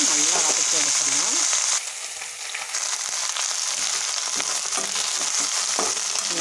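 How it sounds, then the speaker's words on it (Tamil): Thoothuvalai greens and chillies sautéing in a spoonful of oil, a steady close sizzle and crackle with occasional stirring scrapes throughout, briefly dipping before resuming. "நம்ம 1 ஸ்பூன் ஆயில் ஊற்றிட்டேன், ஆயில் பத்தல சேர்த்து நல்லா வதக்கி எடுத்துடலாம்."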